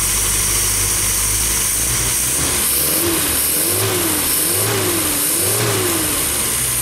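An MG car engine, just had its valves readjusted and timing reset, idles smoothly and then revs up in four even blips, loud and close with a steady high whine above, no voices.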